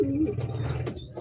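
Racing pigeons in a small home loft give a brief, close, low coo with soft rustling behind it, and no one speaks.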